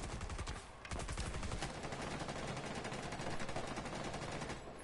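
Rapid automatic gunfire from a gun in a PS4 video game, a dense rattling stream of shots with a brief pause near the start, loud and close throughout.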